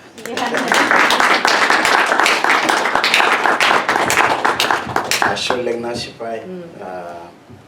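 An audience at a talk on Maasai history claps in a dense burst of applause for several seconds, thinning out as a voice begins speaking near the end.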